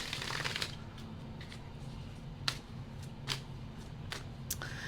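A deck of playing cards being shuffled, with a longer riffling burst at the start and then several short, crisp card snaps spaced apart over a steady low background hum.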